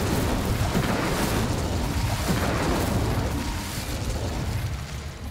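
Incendio fire spell cast in Hogwarts Legacy, a loud roaring burst of flame with crackling, rumbling bursts that swell and then ease off toward the end, dense and close with no talk over it.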